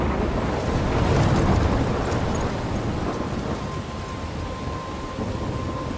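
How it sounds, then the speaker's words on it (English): A thunderstorm in the video game Life is Strange: steady, loud, dense rain and rumbling thunder fill the whole scene, with a rolling low swell early on and no voices. "I'm trapped in a storm?"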